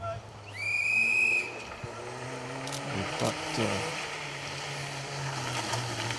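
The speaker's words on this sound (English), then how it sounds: "So, sounds of another car approaching." Hyundai i20 rally car of 1200cc approaching on the Wyedean Stages forest stage, a distant engine drone rising and falling as it nears, with a whistle tone early on and someone commentating.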